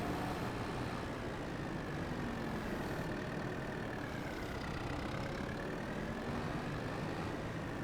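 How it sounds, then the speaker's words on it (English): Steady drone of a light tractor engine in Farming Simulator 22, running continuously at an even pitch with no pauses and no talk over it. "Not a very heavy tractor."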